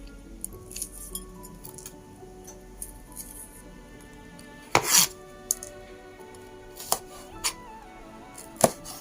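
Knife slicing red chilies thinly on a cutting board, a few scattered sharp taps and clinks at irregular intervals over a quiet kitchen background.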